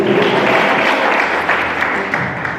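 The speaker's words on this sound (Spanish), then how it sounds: "Denle un aplauso al Señor." A church congregation applauds with dense, sustained clapping that fills the room, steady and loud throughout, fading slightly toward the end.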